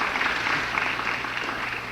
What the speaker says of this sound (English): I'd like to first give a round of applause to all the teachers here tonight